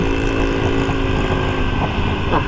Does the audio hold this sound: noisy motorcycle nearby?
yes